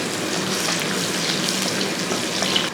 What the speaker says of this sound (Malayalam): കാര്യം എന്ന് വെച്ചാൽ നമുക്കിത് വറുത്തെടുക്കാനുള്ളതാണ്.